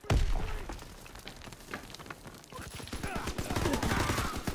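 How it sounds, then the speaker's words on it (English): Call of Duty: WWII Gridiron match with bursts of rapid automatic gunfire from the game, a sharp crack at the start and then dense rattling fire that grows louder toward the end. "Why just kill somebody with their own gun?"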